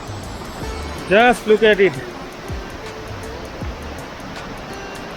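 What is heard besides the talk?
waterfall on the Rudranath trek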